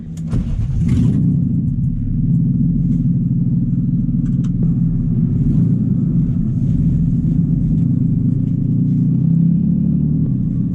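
A BMW E36 328ti Compact, swapped from its original 4-cylinder, drones with a loud, steady engine rumble while driving, a constant low hum holding throughout with no voices.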